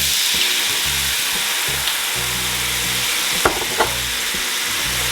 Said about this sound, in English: now we're gonna add our wine to deglaze the pan